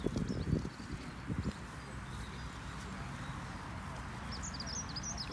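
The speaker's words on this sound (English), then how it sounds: "can really hear all the birds this morning." Farm ambience in the early morning: a few low thuds and rustles up front, then a quiet steady outdoor hush with faint birdsong chirps rising near the end.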